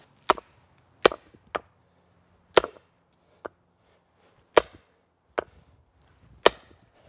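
Wood being split by hand, with about eight sharp, loud chopping cracks at irregular intervals, separated by near silence.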